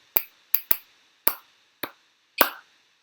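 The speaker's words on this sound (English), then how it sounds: "If I clap out a tune like this" Six sharp hand claps in an uneven rhythm, tapping out a tune, close and distinct against a silent background, with no talking.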